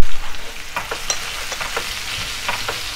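Raw mango pieces sautéing in a pan give a loud, steady sizzle with repeated scraping strokes of a spatula, close and clear with no voices.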